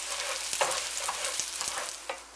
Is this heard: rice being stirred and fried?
yes